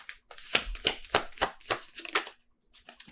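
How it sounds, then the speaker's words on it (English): Tarot cards drawn and flicked from a deck in quick succession, a string of crisp papery snaps and slides close up, with short pauses between draws and no talking. "let's get 3 more cards with this deck"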